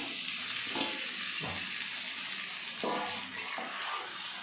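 Boiled elephant foot yam and potatoes stirred in a frying pan of spices for a koi fish curry, a steady sizzle broken by several scraping strokes of a spatula, close and fairly soft.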